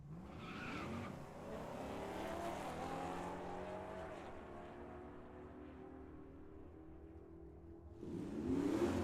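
A 1969 Camaro drag racing car at Tucson Dragway launches and screams down the track, a continuous roaring engine climbing through gears and fading with distance before another car's noise swells at the end.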